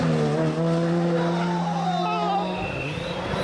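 A rally car drifts around a corner, its engine holding a loud sustained drone while the tires skid and squeal, with a voice talking over it.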